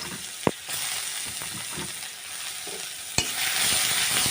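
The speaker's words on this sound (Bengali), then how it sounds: "এবারে একটু ভেজে নেব" Lightly crushed onion frying in a little oil gives a steady close sizzle, broken by a couple of sharp clicks as a utensil scrapes and stirs the pan.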